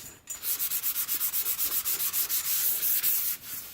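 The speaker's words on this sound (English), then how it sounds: "I'm just trying to sand everything evenly to bring the primer surface down to meet the low spots" Hand sanding of primer surfacer on a skateboard deck, a rapid run of about twenty even back-and-forth rasping strokes, close and crisp, with a brief pause at the start and no talking.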